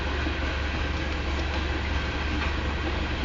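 An eastbound Union Pacific coal train passes west of Nevada, Iowa, slowed to a quarter speed, heard as a dense, continuous low rumble with smeared wheel noise, steady and loud throughout with no talk.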